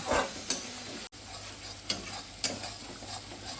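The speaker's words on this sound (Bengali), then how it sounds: "দিয়ে মশলাটাকে আমি ভালো করে মিনিট 3-4 ভালো করে কষিয়ে নেব।" Ground spice paste of ginger and green chillies sautéing in oil for a Bhola fish curry, a continuous sizzle broken by sharp scrapes and taps of a spatula against the pan, fairly close and with no talking.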